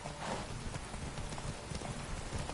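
Roach, Geralt's horse in The Witcher 3, gallops in a rapid, steady clip-clop of hooves that runs loud and close for the whole stretch, with no voices over it.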